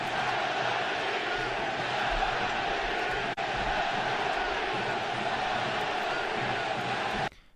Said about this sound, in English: and now getting very loud at the Coliseum.